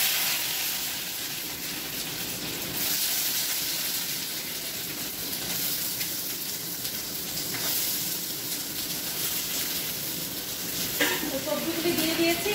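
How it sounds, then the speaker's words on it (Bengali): Vegetables hit a hot frying pan of browned garlic, giving a steady, close sizzle and hiss that runs throughout, with a few stirring scrapes near the end. "এখন সবজিগুলি অ্যাড করে দিচ্ছি।"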